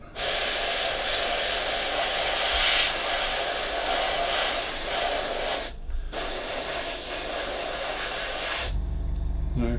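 Airbrush spraying paint onto an Airfix 1/48 Hawker Hurricane model, a loud continuous close hiss that cuts out briefly, resumes, then stops before a low hum.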